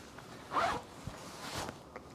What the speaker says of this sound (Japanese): センタージッパーはダブルスライダーで下からも開く